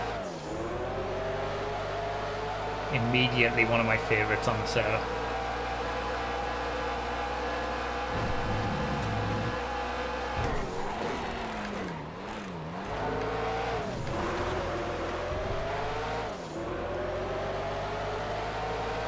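Engine of an old-school Le Mans race car in a GTA FiveM race revving and shifting through gears, loud and sustained with rising and falling pitch sweeps, while someone talks over it.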